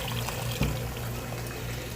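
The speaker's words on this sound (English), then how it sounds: "Grab a bucket, fill that with hot water." Hot water runs steadily from a sink tap into a bucket, a continuous close rushing pour for the whole stretch with one brief knock partway through.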